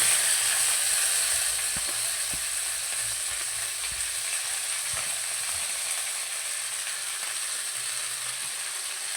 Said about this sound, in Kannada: ಕೊತ್ತಂಬರಿ ಸೊಪ್ಪು ಹಾಕ್ಕೊಂಡು ಫ್ರೈ ಮಾಡ್ಕೊಳ್ಳೋಣ